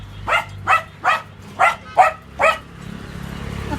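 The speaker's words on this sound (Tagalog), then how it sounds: "Itong aso namin, galit na galit naman eh." An angry dog barks six times in a steady, evenly spaced run, loud and close, then falls quiet with only low background hum.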